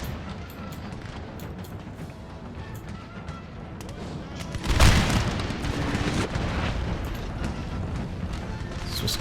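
Booming cannon and artillery fire rumble in Napoleon: Total War, one heavy blast standing out midway amid continuous distant battle noise and musket crackle, with someone talking throughout.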